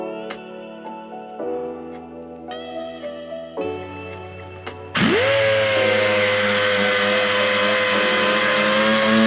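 Power sander scuffing the body panels of a ZX6R motorcycle for paint; a tool whines through several stepped speed changes before a much louder, dense sanding roar takes over, with no talk.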